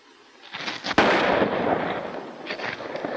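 A single sharp gunshot crack rings out about a second in, followed by a dense rumbling wash of noise, in a 1932 western film (Tombstone Canyon).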